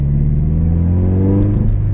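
Subaru BRZ exhaust rumbling steadily from inside the car while driving, a loud, continuous low drone with rising engine tones and no talking.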